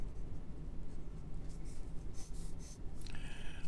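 A Jinhao X350 fountain pen with a number 6 steel Fude nib writes on paper, giving faint, soft scratchy strokes over a low steady background hum.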